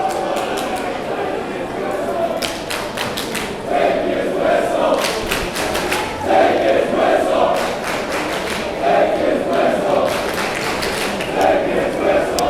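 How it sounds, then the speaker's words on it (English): A high school soccer crowd at a Washington 4A state championship between Bellarmine Prep and Skyline reacts to a foul call with rising waves of jeers and shouts, while a commentator talks over it. "Crowd doesn't like it, but I think it was legit."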